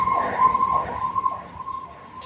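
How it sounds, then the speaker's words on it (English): A siren wails in steady, wavering tones throughout, fairly loud and close, with no talking over it. "Siren."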